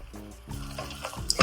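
Water runs from a tap or jug into a spiced Sindhi kadhi curry mixture, a short close splashing stream that builds toward the end over a faint hum.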